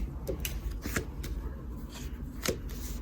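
Playing cards being shuffled, with soft riffling and flicking bursts in an uneven rhythm, quiet and close, with no talking.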